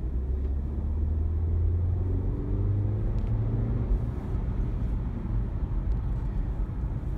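A 2018 BMW X1 28i xDrive accelerating, heard from inside as a steady, loud low engine rumble with a rising drone that keeps on throughout, with no voices.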